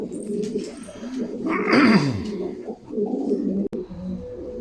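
Flight pigeons coo nearby in soft, rolling throaty phrases, one rising and falling call standing out clearly over the low murmuring of the flock, with a brief click near the end.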